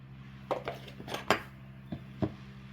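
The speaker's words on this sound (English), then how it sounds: "I'm going to take my spoon here and just kind of spread it around so that you have an even coat on the top" A metal spoon spreading glaze across the top of a warm honey bun cake, giving several separate clinks and scrapes against the pan, close and fairly quiet, with no talking.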